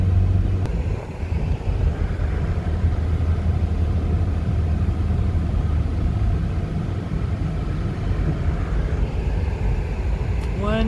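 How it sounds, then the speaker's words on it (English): A truck rumbles steadily past on a road near a new housing development, heard outdoors with a loud low drone and wind buffeting the microphone, with no talking. "Truck."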